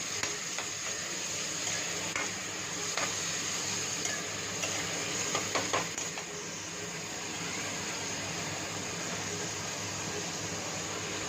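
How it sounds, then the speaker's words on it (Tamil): Onion and tomato sautéing in a pan for tomato rasam give a soft, steady sizzle with faint stirring clicks throughout, quiet and close with no talking. "தக்காளி நல்லா வதக்கிக்கலாம்."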